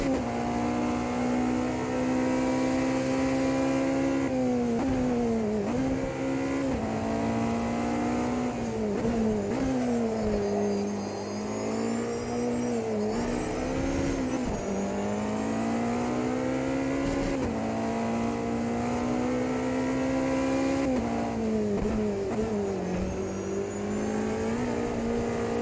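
A Porsche 963 LMDh prototype race car lapping Le Mans in AMS2, its engine droning loud and steady throughout, pitch rising through the gears and dipping on downshifts, with occasional tire noise.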